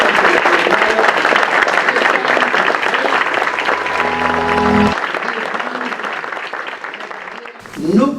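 Steady crowd applause fills a public hearing on a new social security law, holding at an even level for several seconds before gradually thinning, with a brief burst of voices near the end.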